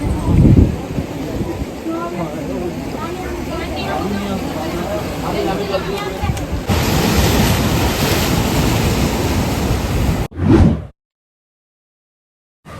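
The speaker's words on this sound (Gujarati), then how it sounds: "આ બાજુ છે દરિયો" Steady broadband roar of surf washing onto Nagoa Beach in Diu, with wind buffeting the microphone, loud and continuous, cutting off abruptly near the end.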